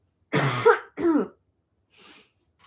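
Two harsh, close throat-clearing rasps in quick succession, followed by a softer breathy exhale.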